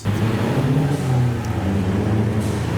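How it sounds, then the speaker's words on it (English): A Mazda 3 MPS turbo car rolls out of the Simply Japanese 2021 car show, its engine a loud, close, steady rumbling drone with a slight rise and fall. "All turbo sounds from the Mazda 3 MPS as well"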